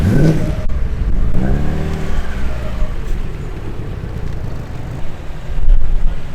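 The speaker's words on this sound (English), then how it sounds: "And joining the JDM crew is a Toyota Corolla" A Toyota Corolla drives past at a morning car meet at Calder Park, its engine note rising and falling near the microphone amid wind noise and the rumble of other cars.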